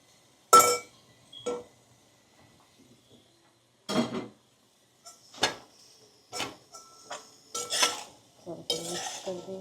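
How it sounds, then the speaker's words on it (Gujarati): Flattened rice (poha) and potatoes stirred in a pan produce sharp, scattered metallic clinks and scrapes of a spoon against the pan, coming in separate bursts with quiet gaps between them, close and without talk. "મિક્સ કરી દઈએ પૌવાને"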